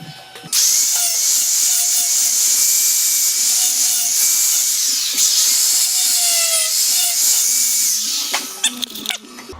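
A side grinder grinds metal on a 1946 GMC truck, a loud, sustained high-pitched whine with shifting pitch as pressure changes, close up, starting abruptly and tapering off near the end, no voices.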